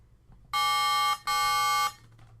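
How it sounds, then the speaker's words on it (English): A loud electronic censor beep sounds as two harsh buzzing tones, each about half a second long, separated by a brief gap, over a quiet background with no voices. "That was a weird censored beep."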